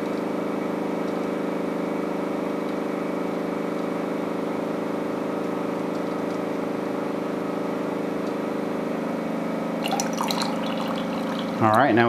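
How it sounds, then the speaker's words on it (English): A water cooler's hot dispenser is pushed down and water pours out, a steady stream that runs under a constant low machine hum and grows louder with splashing near the end. "So I'm going to depress the hot safety switch, push the hot dispenser down."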